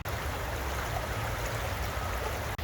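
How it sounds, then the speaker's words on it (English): Beaver Brook, a small stream in a park reservation, runs in a steady, continuous rush of flowing water, close and even throughout with no talk. "That's Beaver Brook."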